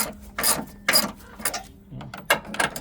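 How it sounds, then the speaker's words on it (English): A torque wrench is tightened on the front motor mount bolts of a 2009 Ford Focus, giving a series of close, sharp ratcheting clicks in short bursts with brief pauses between them. "take your torque wrench and torque them down"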